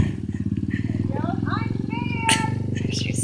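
A small dirt bike engine runs steadily at a low, throbbing idle as a beginner rider eases off, with people talking over it close by.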